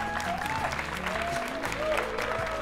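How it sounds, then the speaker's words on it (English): An audience at a televised debate final applauds both teams, a steady wash of clapping that runs the full length of the moment, with a voice and faint music tones audible underneath. "So let's give a round of applause for both teams tonight."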